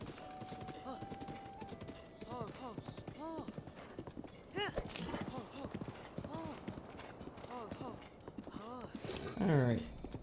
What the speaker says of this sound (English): I think I also found Zelda's horse.